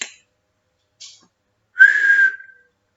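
A human voice imitates a dolphin: two short, faint clicks followed by a brief, bright whistled squeal, each sound isolated by silence.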